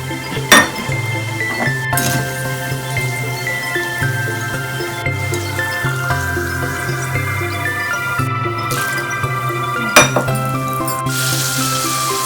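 Cashews frying in hot oil for thin poha chivda sizzle steadily, with repeated metal clinks of a spoon against the pan and a few sharp taps, close and fairly loud, with no talk.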